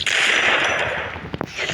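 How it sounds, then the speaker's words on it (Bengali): A Desert Eagle pistol fires in a video game, landing a headshot: a sharp gunshot over a dense, noisy game soundscape, with a short burst of impacts near the end. "খুব সুন্দর একটা হেডশট ডেজার দিয়ে দিলাম"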